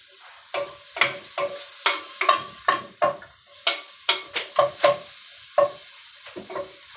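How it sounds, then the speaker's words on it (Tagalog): Tomato sautéing in a Saladmaster pan, heard as a run of sharp, close scraping and tapping strokes from the utensil stirring it, repeating in an irregular rhythm over a soft low sizzle. "while waiting sa ating ginigisang tomato"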